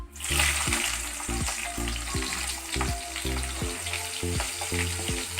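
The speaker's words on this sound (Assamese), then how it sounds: "এতিয়া মই কাটি থোৱা পিঁয়াজ দি দিম।" Chopped onions go into hot oil with five-spice for a jackfruit curry, raising a loud, continuous sizzle. Repeated rhythmic scraping or stirring knocks sound up close throughout, with no talking.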